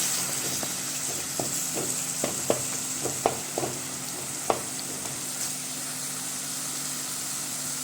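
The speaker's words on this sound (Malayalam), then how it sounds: "നമ്മൾ എടുത്തു വെച്ചിരിക്കുന്ന കുടമ്പുളി ചേർത്ത് കൊടുക്കാം എല്ലാം കൂടി ഒന്ന് മിക്സ് ചെയ്ത് കൊടുക്കാം" Fish curry masala with kudampuli being stirred in a hot pan: a steady sizzling hiss runs throughout, broken by scattered soft clinks and scrapes of the spoon against the pan.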